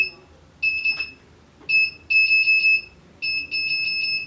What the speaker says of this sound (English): the buzzer is set to go off like every 150 milliseconds